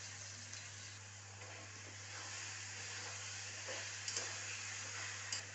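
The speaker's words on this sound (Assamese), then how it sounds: "এইটো আপোনাৰ পিঁয়াজটো ভাজা গ'ল।" Onions fry in a pan with a soft, continuous hiss and sizzle, quiet and close, with no one talking.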